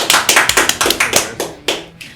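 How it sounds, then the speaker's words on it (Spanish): Scattered hand claps from a small group welcoming a guest onto a podcast, a dozen or so distinct sharp claps over two seconds that thin out and stop, close and fairly loud. "un fuerte aplauso"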